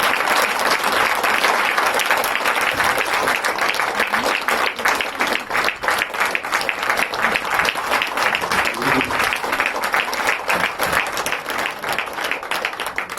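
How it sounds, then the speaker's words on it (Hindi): Loud, sustained applause from an audience at a Hindi poetry event, dense clapping filling the whole stretch with crowd murmur and no clear speech over it. "एक बार आपकी जोरदार तालियों से"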